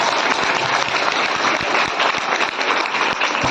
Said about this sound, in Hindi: एक बार नीलू मैम के लिए जोरदार ताली।